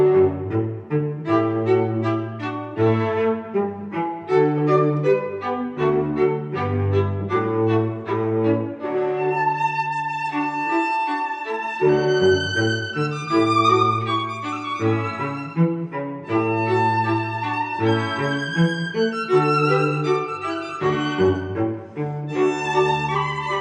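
A string quartet plays a bright, flowing classical piece by Haydn from 1790, violins carrying melody over steady lower strings, with no voices.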